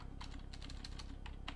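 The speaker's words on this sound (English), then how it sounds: "I'm going to type code space dot to open the project." Computer keyboard typing, a quick irregular run of soft key clicks close to the microphone over a low background hum.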